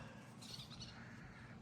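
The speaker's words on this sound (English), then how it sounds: "Birds are chirping." Birds chirping on a cool morning outdoors in Thermopolis, Wyoming: a few brief, faint high chirps rise over a steady background hiss and low rumble.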